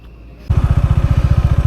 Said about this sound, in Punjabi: ਮੋਟਰਸਾਈਕਲ ਦੂਜੇ ਗੇਅਰ 'ਚ ਜਾਂਦਾ ਹੈ ਤੇ ਸਿੱਧੀ ਚੜਾਈ ਜਾ ਰਹੀ ਆ